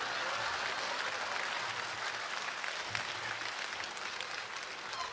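Audience at a Frisian singers' gala applauding as performers come on stage, a steady, fairly distant wash of many hands clapping that continues without pause.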